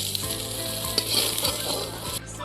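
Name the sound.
mutton nali and potatoes frying in a pan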